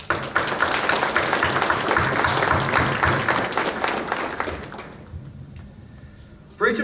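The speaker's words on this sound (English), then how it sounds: "Students, please join me now in applauding your families in attendance and those viewing from home tonight" A large audience at a National Junior Honor Society induction ceremony applauds steadily and fairly loudly, then the clapping fades out and leaves a quiet room with one sharp knock near the end.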